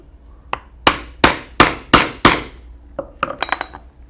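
A hammer strikes a punch through a leather holster resting on a punching board, five sharp, evenly spaced knocks close up, followed by a quicker flurry of lighter taps and clinks.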